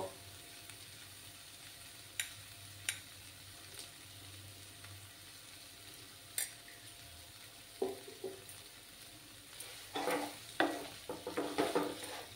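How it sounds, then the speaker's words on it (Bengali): Vegetables being stirred in a pan during vegetarian cooking, with a low steady sizzle under a few scattered clinks, then a clearer run of spatula scrapes and clatter toward the end. "দিয়ে ভালো করে নাড়াচাড়া করে নেব।"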